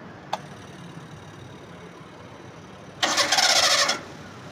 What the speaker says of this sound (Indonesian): Kita starter dulu tanpa saya gas.